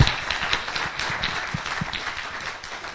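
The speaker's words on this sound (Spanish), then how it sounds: "Un aplauso a Pilar" Applause breaks out for a speaker at the close of a seminar talk on 3D learning, a moderate round of scattered hand claps from a modest audience, fairly near and fading slightly toward the end.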